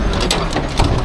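A semi truck engine idling down, a loud close mechanical clatter with ratcheting, rhythmic knocks over a low rumble, brief and continuous.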